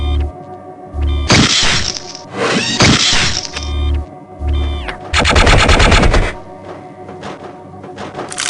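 Sniper fire in the video game Gunman Chronicles hits targets in a series of loud, close shots. Each crack comes with a rattling, mechanical burst and a low thump, with brief pauses between groups of shots.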